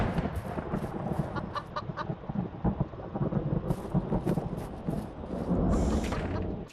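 Chickens cluck in the coop area of the mobile horror game Evil Nun, scattered clucks and squawks over a noisy rumbling background resembling a thunderstorm with rain.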